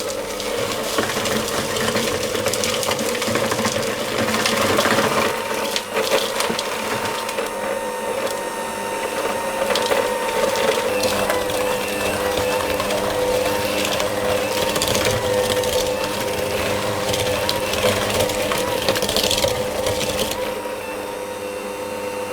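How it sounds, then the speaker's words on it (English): Electric hand mixer creaming butter with eggs and somewhat hard sugar for black treacle molasses cookies, a steady loud whirring drone that runs without pause for the whole stretch, with no talking. "You could do this in a stand mixer, but I'm going to do it with my hand mixer"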